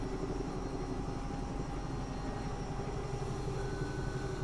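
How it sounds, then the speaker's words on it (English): A Bell 222 helicopter in flight in the X-Plane 11 simulator, its rotor and turbine heard as a steady, moderately loud drone with a thin whine held throughout. "We're flying the Bell 222. This is the Airwolf Helicopter."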